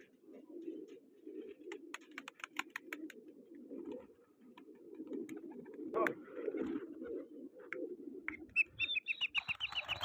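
Pigeons coo softly in a low, continuous murmur, with scattered chirps of other birds and a brief flutter of wings.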